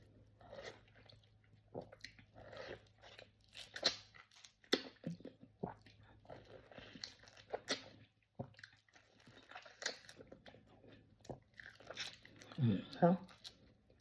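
Chewing and biting on breakfast food, with toast, egg and orange on the table, gives soft close crunches and wet mouth sounds between bursts of casual talk, with a louder crunchy stretch near the end.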